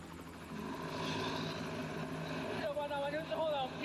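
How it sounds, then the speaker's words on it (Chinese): A military helicopter's engine powers up and drones steadily and loud close by, a whine rising toward the end, while someone talks over it. "马上这架直升机啊就要继续飞往靶区，投入到靶标的打击工作"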